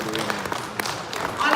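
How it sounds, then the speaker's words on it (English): A conference audience at an awards summit applauds briefly, a soft, diffuse wash of clapping mixed with talking voices. "So clap for yourselves one more time."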